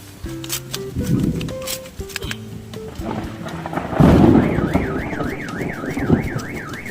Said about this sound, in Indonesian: ada suara mobil kawan, alarm